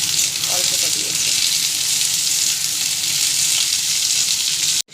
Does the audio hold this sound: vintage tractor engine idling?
no